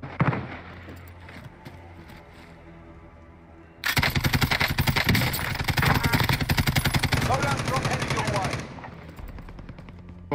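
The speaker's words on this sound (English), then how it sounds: "Who is shooting?" Rapid automatic gunfire in the video game Call of Duty Black Ops Cold War, a loud, sustained burst of close shots lasting several seconds before cutting off, with quieter game noise before it.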